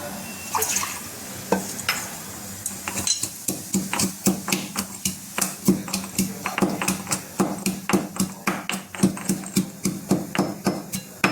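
Fresh tulsi leaves and lemongrass for masala chai are pounded in a mortar, a steady run of sharp, close knocks that speed into a regular rhythm, with a faint kitchen background.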